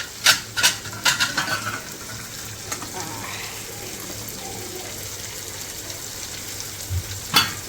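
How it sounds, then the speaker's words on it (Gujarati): Spinach sautés in a pan with onion, tomato and garlic, a soft steady sizzle beneath a few clattering stirs and knocks of a utensil near the start and end. "પાલક અહીંયા મસ્ત ડુંગળી ટામેટાં અને લસણ સાથે સતળાય છે"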